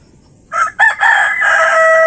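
A rooster crows once, loud and close, starting with two short choppy notes and then stretching into a long drawn-out call that holds steady until the end.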